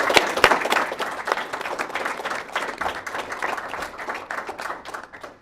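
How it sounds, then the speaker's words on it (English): A forum audience gives a round of applause for the speakers: steady, dense clapping from a crowd that fills the whole stretch and tapers slightly at the end. "Let's give another round of applause for our speakers today."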